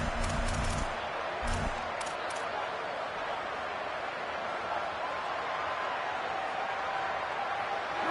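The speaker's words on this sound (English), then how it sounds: "The crowd elevating its energy, willing this defense to get a stop on this big third down" A stadium crowd at a Louisville college football game roars steadily as the defense faces a big third down, a dense, sustained din under a commentator's voice.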